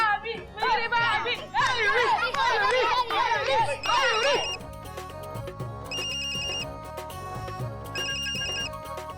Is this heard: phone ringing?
yes